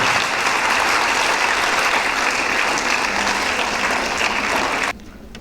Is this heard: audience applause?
yes